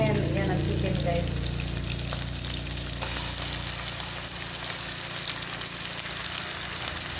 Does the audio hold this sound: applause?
no